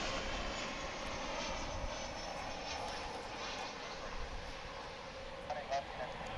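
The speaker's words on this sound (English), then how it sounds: "as we greet a Sun Country plane coming in" Sun Country airliner on approach to land at DFW International Airport, a steady broad roar of jet engines held at a constant level throughout, moderately distant with no clear rise or fall.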